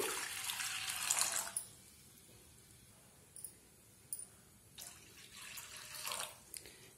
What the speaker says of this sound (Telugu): స్టవ్ వెలిగించుకొని పాన్ పెట్టుకొని అందులోకి తగినంత వాటర్ వేసుకుందామండి